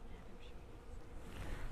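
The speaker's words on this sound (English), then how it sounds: "What type of bees are these?" Honey bees hum around an opened hive frame at a beekeeping workshop, a dense, steady, close buzz across the whole moment.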